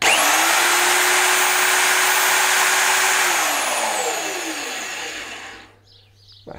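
Vevor magnetic base drill motor running loud and close with a steady high whine, then winding down to a stop near the end, with no talking.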